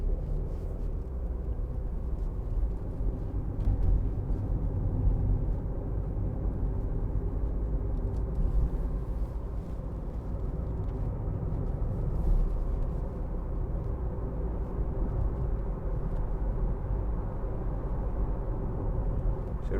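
Steady low road and engine rumble from inside a 2015 Audi A1 1.4 TFSI Sport with S Tronic gearbox rounding a roundabout, an even cabin drone with no talking.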